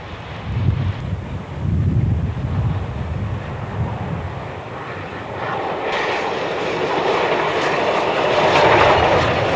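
LNER A2 steam locomotive Blue Peter hauling the Heart of Midlothian rail tour south from Edinburgh towards York, a steady low rumble of the passing train that grows broader and louder toward the end, mixed with strong wind buffeting the microphone.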